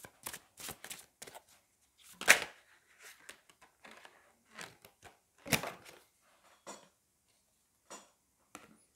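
Tarot cards being shuffled by hand in short, dry riffles and taps, scattered bursts separated by pauses, close and fairly quiet with no talking.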